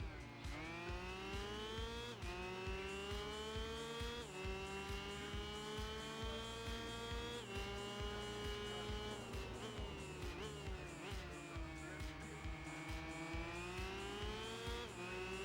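A Yamaha TZ125 two-stroke race motorcycle from the Tourist Trophy racing game screams at high revs, its buzzing pitch climbing and dropping repeatedly through quick gear changes, loud and continuous with no talking.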